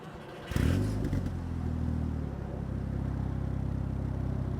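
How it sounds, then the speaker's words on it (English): Cabin noise from a modified MK6 Volkswagen Golf R while driving: a sudden loud engine surge with clatter, settling into a steady low drone and rumble, with no talk. "welcome to the very noisy car"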